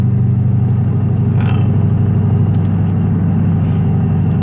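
A loud, deep, straight-piped V8 exhaust on a 2006 Ford Mustang GT with no catalytic converters or mufflers, burbling steadily at close range with a slight rev partway through.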